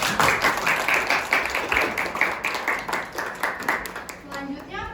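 Students in a high school panel discussion audience clap together, a quick, slightly rhythmic run of hand claps close by that tapers off as a voice starts talking at the end.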